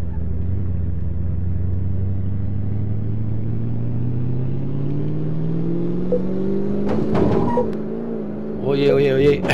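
A Porsche 911 classic car engine in Car Mechanic Simulator 2018 revs steadily upward in a smooth, rising drone, followed by a few clattering knocks near the end.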